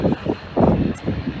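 An Emirates Airbus A380 airliner coming in at Manchester Airport, its broad engine roar swelling and fading in short pulses over barely a second and a half.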